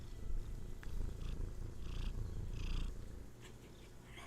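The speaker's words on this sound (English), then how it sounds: "you purring into the microphone?" A cat purring close up, a steady low rumbling drone with soft rhythmic pulses, continuous for several seconds with no talking.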